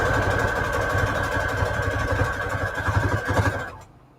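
A sewing machine runs steadily at close range, sewing a long straight stitch down the middle of pleated book-paper scrap trim, with a constant whine and motor hum before it stops abruptly near the end.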